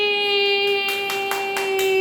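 A few hand claps in a quick series over a steady tonal hum, fairly close.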